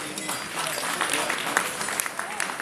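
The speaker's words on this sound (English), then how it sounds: "Please give them a round of applause." Audience applause at an evening launch event for a phone network and streaming partnership, a steady broadband patter of many hands clapping, with crowd murmur and voices mixed in.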